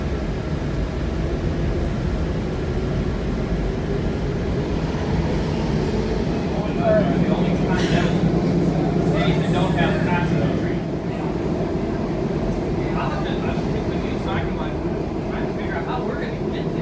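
A Washington DC Metro train rumbles steadily nearby, with hissing and metallic squeals flaring up midway before the low roar settles again.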